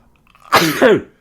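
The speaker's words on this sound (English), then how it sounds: "Live sneezing." A single loud, close human sneeze, a sharp intake followed by an explosive two-part burst, heard alone.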